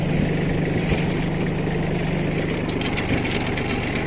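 Solis 26 four-wheel-drive tractor with a seven-tine cultivator working a walnut field, its engine chugging steadily and close by, a continuous mid-low drone with a faint knocking rhythm and no speech.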